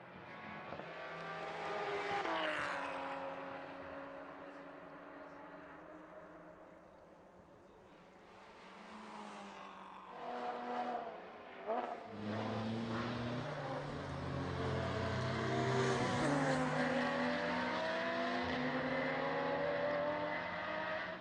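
Race cars pass on track during a two-hour endurance race, engines swelling and fading as they sweep by, with a sharp passing burst midway before a denser, sustained roar of several cars accelerating.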